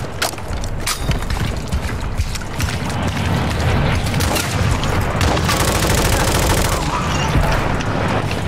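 Rapid bursts of gunfire in Call of Duty: Warzone 2.0 crackle continuously alongside clanking mechanical noises, loud and busy throughout with no pauses.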